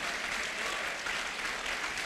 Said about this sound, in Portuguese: Vamos aplaudir a Ele pelo que nós somos.